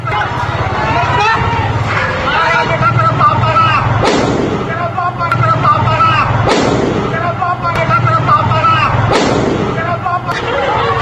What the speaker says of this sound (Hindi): सीवान में फायरिंग भी हुई, जिसकी गूंज सुनाई दी